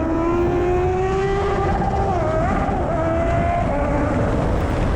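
A superbike on a long ride accelerates hard. Its engine note climbs steadily under constant loud wind and road rush, close and continuous for the whole stretch, with no speech.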